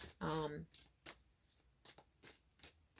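A deck of tarot cards being shuffled by hand, giving a few quick papery snaps and riffles, close and fairly quiet, with a brief voiced sound near the start.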